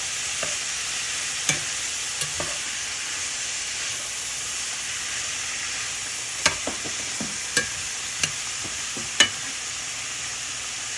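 Celery and other vegetables for jambalaya sauté in a pan, a steady hissing sizzle broken by sharp, irregular clicks and scrapes of stirring.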